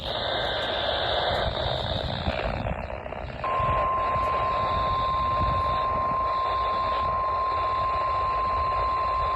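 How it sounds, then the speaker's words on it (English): NOAA Weather Radio public warning alarm test signal from a Florida transmitter: a loud, steady electronic tone that runs unbroken for several seconds over radio static and hiss. "The preceding signal was a test of a public warning and alarm for transmitters in the Florida listening area"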